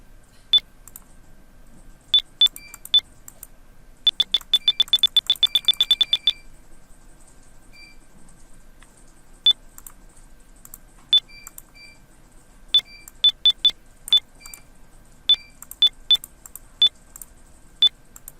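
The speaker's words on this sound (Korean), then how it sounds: "이렇게 이제 알람이 지금 발생이 되고 있죠" A Pro-face HMI touch panel sounds its alarm: sharp, high electronic beeps come singly and in irregular groups, with one rapid flurry of quick beeps, each clear and close against a quiet background.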